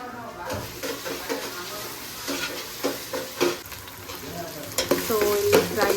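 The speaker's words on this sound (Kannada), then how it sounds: "ಫ್ರೈ ಆಗ್ತಿದೆ. ಆನಿಯನು ಆಲ್ಮೋಸ್ಟ್ ಫ್ರೈ ಆಗಿದೆ" Onions frying in a pan for chicken biryani, a close, crackling sizzle broken by repeated scraping and stirring knocks, with someone talking faintly over the cooking.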